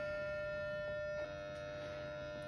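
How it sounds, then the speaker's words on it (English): A tracker base station network alarm sounds a steady electronic tone, a sustained tonal beep with harmonics that shifts pitch partway through, heard indoors at moderate level without talk. "you can hear the alarm going off"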